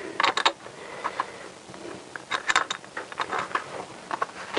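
Metallic clicks and ratcheting taps as bolts are refitted on a Honda CBR1000F motorcycle's cockpit and engine covers, a close series of short irregular mechanical sounds with no talking.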